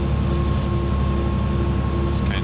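Steady loud rumble of a moving local train on Japan's Geibi Line with continuous broadband rattling and faint scraping of branches brushing against the exterior, no voices.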